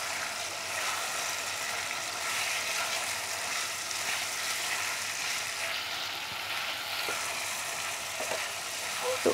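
Chicken and fried spices sizzle in a pan, a steady loud frying hiss with faint stirring scrapes and light clinks near the end.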